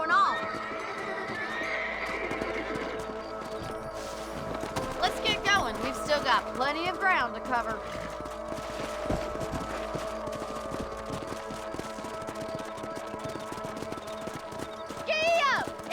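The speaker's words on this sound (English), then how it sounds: "Let's get back on the horses and see what else is going on." Horses whinny and hooves clatter over a steady Red Dead Redemption soundscape on PS5, with someone talking throughout and several sharp neighs rising in the middle and at the end.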